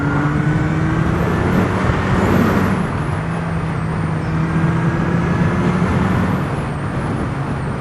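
A Kawasaki Zephyr 750 motorcycle engine drones steadily while riding, with a continuous hum and rushing wind noise at a constant level and close-up loudness, no talking over it.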